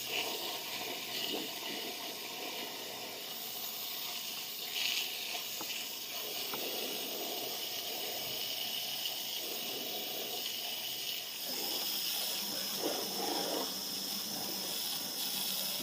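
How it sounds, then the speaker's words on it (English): Garden hose spraying water onto the dirty underside of a Husqvarna YTH23V4 riding lawn mower deck, a continuous hissing splash that shifts in intensity as the stream moves, fairly close, with no voices. "So I start with a hose,"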